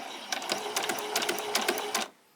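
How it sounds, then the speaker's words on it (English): A sewing machine back stitches fabric at a quarter-inch seam on a pajama top, running in a steady rapid whir with short bursts of needle clatter, close and alone, then stopping abruptly. "I'm just going to stitch all the way around on that 1/4 inch"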